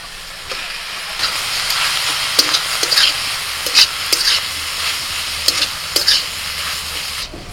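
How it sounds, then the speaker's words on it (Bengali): Chicken mince stir-fried with chopped vegetables in a pan, a continuous close sizzle and hiss broken by sharp, irregular spatula scrapes and taps against the metal. "এবার চিকেন কিমাটা দিয়ে দিচ্ছি।"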